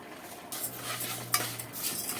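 A spoon stirs vermicelli frying in ghee in a cooking pot, giving a soft scraping swirl with one sharp metallic clink, close and without talk.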